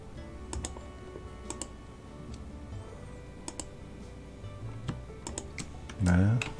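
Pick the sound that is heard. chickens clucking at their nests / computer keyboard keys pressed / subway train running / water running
computer keyboard keys pressed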